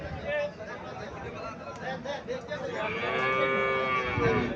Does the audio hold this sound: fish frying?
no